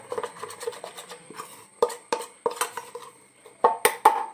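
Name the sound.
spoon mixing soap ingredients into a paste in a bowl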